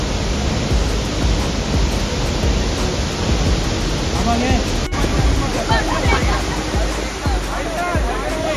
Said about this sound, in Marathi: पाण्याचा वेगच एवढा आहे आणि वाहतं पाणी खूप जास्त जोरात आहे